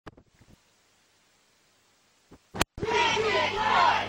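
Roaring crowd noise swells in abruptly and holds loud and steady after a sharp burst, following near silence with a few faint clicks, as a virtual audience cheers a wrestler in the wrestling video game PTW.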